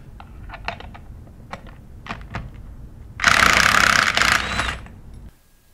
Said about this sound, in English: we're going to use a 3/8 inch electric impact gun